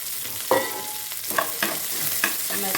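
Chopped onions, shallots, garlic and dried red chillies fry in hot oil for a taro-leaf stir-fry, giving a steady close sizzle with several sharp scraping stirs spread through the stretch; no one speaks.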